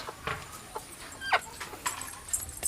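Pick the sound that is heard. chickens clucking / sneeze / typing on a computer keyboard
chickens clucking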